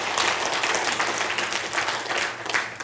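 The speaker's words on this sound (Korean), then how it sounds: "박수." Dense audience applause during a health lecture, a loud continuous patter of many hands clapping close and steady for a few seconds.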